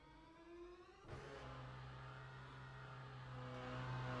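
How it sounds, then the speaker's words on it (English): Lamborghini hypercar engine firing up in the racing game Le Mans Ultimate, a quiet whir giving way to a sudden catch and then a steady humming idle that swells slightly near the end, faint overall. "Then you'll hear the engine kick in."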